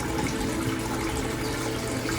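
A backyard waterfall water feature with an intake-based skimming system and an artificial rock covering the pump lid pours steadily, producing a dense, even rush of falling and splashing water heard up close, loud and continuous with no voices.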